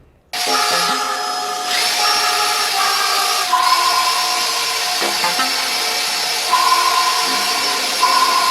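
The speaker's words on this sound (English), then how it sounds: "So I got a lot of sanding to do." A power sander whines steadily and loudly with a high tonal hum across a resin coffee table, its pitch shifting slightly as it moves across the surface, no talking.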